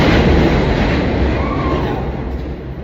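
Train in New York City rumbling loudly and steadily throughout, a dense broadband roar with a faint wheel squeal midway, gradually easing in volume near the end.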